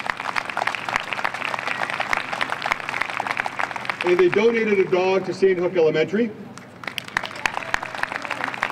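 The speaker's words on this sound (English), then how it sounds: "So please give it up for them because they deserve a good round of applause." A school audience applauds a Lutheran Church group and their comfort dogs in Newtown, with steady clapping running throughout and someone speaking over it.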